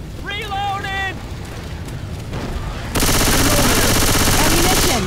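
Rapid automatic gunfire in Left 4 Dead 2 bursts out loud and dense, following a quieter stretch with a brief electronic warbling tone and background game noise.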